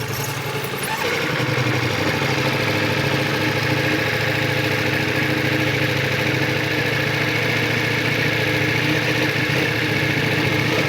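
A motorcycle engine runs steadily during figure-eight riding practice around cones, a loud, close, continuous drone with slight throttle wavering and no talk.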